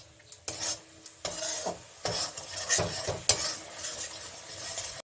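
Radish for mulor ghonto, with Kashmiri chilli powder and green chilli paste, is stir-fried in a pan: irregular scraping and rasping spatula strokes over a faint sizzle, close and fairly loud, with no voices.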